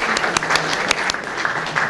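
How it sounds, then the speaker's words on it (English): Audience applause at an honors reception, a steady wash of many hands clapping continuously at moderate loudness throughout, with no pause or voices over it. "So we want to give you a round of applause as well."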